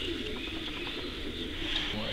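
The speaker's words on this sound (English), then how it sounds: "I've got a lot of really good birds in here." Racing pigeons cooing inside a loft, a soft continuous murmur of bird calls under steady broadband background noise, close and moderately loud throughout.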